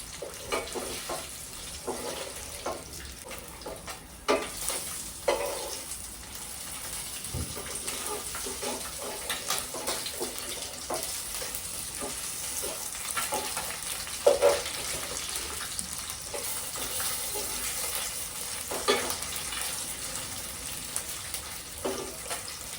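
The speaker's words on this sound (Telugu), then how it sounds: "కాస్త ఇలా వేగేటప్పుడు కొంచెం చెప్పట్లాడినట్టు పేరినట్టు అవుతుందండి." Pieces of Seelavati fish fry in hot oil, and the fatty skin spits and crackles in scattered pops over a constant low sizzle, close up, with no talking.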